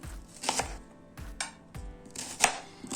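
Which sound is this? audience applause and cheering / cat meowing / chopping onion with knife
chopping onion with knife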